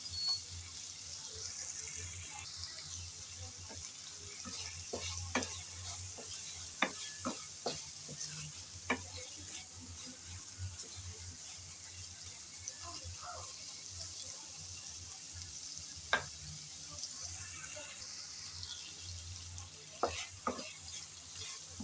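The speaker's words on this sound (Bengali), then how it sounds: "টমেটো আর কাঁচামরিচ দিয়ে ভালোভাবে নেড়েচেড়ে মশলা আবারও কষিয়ে নেব" Spices with tomato and green chili being stirred and sautéed in a pan, a soft steady sizzle with intermittent clinks and scrapes of the spoon, moderately quiet, with a faint low hum underneath.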